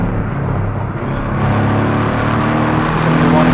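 A 2018 Porsche Cayman 718 GTS exhaust booms loudly while driving, a dense continuous roar that climbs in pitch as the engine revs up, heard up close with no break.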